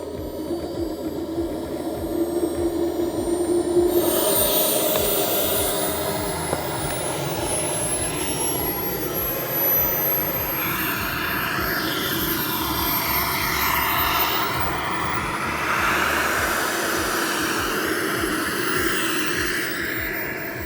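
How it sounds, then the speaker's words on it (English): A model airplane engine runs steadily at high revs with a whining drone before taxiing, the pitch rising and shifting as the throttle changes, loud and close. "Okay, so we're running and we're going to taxi out for the first flight."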